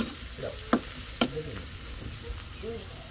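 Food fries in a pan with a low steady sizzle and a couple of sharp stirring clinks, quiet and close, with faint talk in the background.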